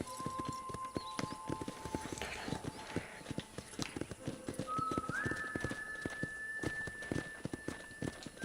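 Horse hooves clip-clop steadily at a ranch corral in Red Dead Redemption, a continuous run of close, sharp hoof strikes with game music tones playing underneath.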